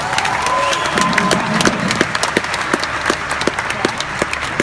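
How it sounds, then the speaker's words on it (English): Audience applause and cheering at a OneCoin event, starting as a broad wash of clapping and whoops, then thinning into distinct individual claps that keep a loose rhythm. "Can you give all of yourselves one big applause?"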